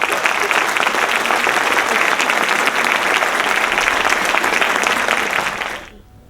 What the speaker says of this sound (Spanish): a quien recibimos, por supuesto, con un gran aplauso